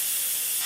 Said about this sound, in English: we're supposed to do a quick release after they're done. Lots of steam.